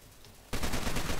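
Gunfire in the video game Ravaged: a quiet start then a sudden dense burst of rapid shots that continues steadily and loudly to the end, with no talk.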